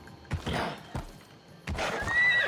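A horse neighs loudly in Assassin's Creed Odyssey, two short whinny bursts followed by a longer, sustained neigh with hoof clops underneath, close and alone without talk.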